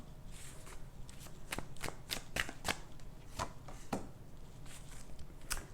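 Tarot cards are shuffled by hand in a series of quick riffling bursts and soft slaps, close and fairly quiet, with no talking.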